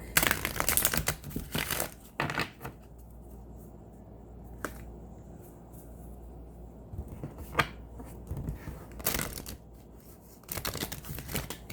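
Quick crisp riffling bursts of a deck of cards being shuffled nearby, a few separate shuffles with quieter handling in between.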